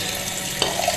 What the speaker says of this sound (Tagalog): Tapos lalagyan ulit natin siya ng maligamgam na tubig.